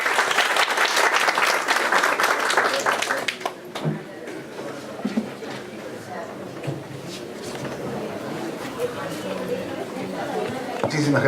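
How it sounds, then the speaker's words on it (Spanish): An audience at a specialised legal conference session applauds to welcome Dr. Bonifacio Meneses González, with loud, dense clapping for about three seconds that then thins into scattered claps, chatter and shuffling noises. "vamos a recibir con un merecido fuerte aplauso al doctor Bonifacio Meneses González"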